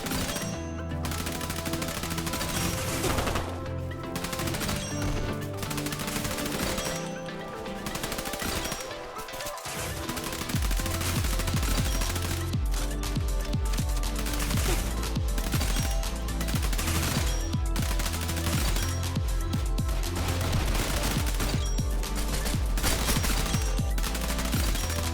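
Rapid gunfire from a custom video game gun build with a Mac 10 magazine, red dot and AS Val barrel: dense, continuous automatic bursts with a brief pause near the middle, loud and close throughout.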